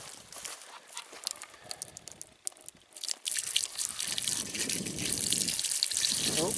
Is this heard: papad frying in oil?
no